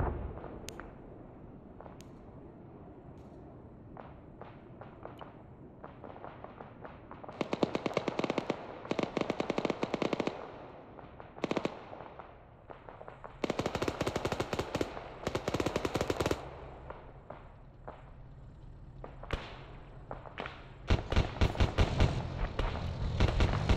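Machine gun fire in the military shooter ARMA 3 at a UN base under Russian attack, long rattling bursts and scattered single shots, some near and loud, others distant, repeating in waves throughout.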